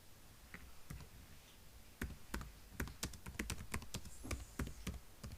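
Quiet, close keyboard clicks as text is typed on a computer, sparse at first and then coming in quicker irregular runs of taps over a faint hum.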